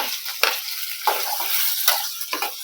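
Onions frying in a pan for a capsicum side dish, a steady close sizzle broken by several sharp scraping stir strokes.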